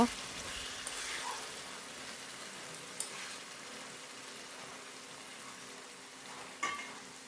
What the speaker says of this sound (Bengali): এই যে মাংসগুলো এখন ভাজবো, আর এখন আমি মাংস রান্না করব।